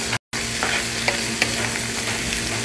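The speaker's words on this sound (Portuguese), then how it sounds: "Aqui, a cebola deu uma fritadinha. Eu vou colocar o pimentão aqui." Bell pepper added to frying onions in a hot pan gives a steady, close sizzle with light stirring scrapes. There is a brief dropout near the start and no talking.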